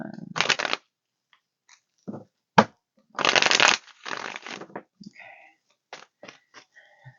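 Tarot cards shuffled by hand at a table: a burst of rapid riffling flutter, then more shuffles and scattered soft card slaps and taps, close and dry with no talk.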